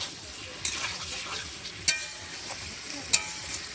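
Chicken pieces cook in a pot with spiced masala for a village-style potato and chicken curry, producing a soft, low sizzle with three distinct utensil clicks at irregular moments, fairly quiet and with no one speaking.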